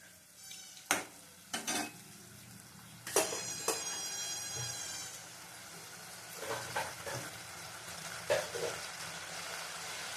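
A fish and eggplant curry simmers and sizzles in a pot with a soft, steady bubbling, broken by a few sharp clinks and scrapes of a utensil against the pot.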